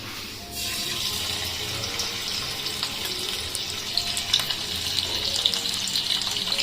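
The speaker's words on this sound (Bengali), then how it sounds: "তো তেল গরম হয়ে গেছে, আমি মাছটা দিয়ে দিই।" Bhetki fish fillets hit hot oil in a pan, setting off a loud, steady frying sizzle that starts abruptly and keeps crackling with scattered pops, close up and without talk.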